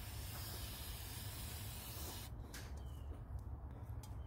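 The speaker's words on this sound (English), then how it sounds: "All right, so I'm gonna spray a little bit here." Short hissing bursts of aerosol cleaner sprayed into the throttle body of a Ford Explorer with a rough idle, a steady close spray hiss followed by several brief puffs, no talk.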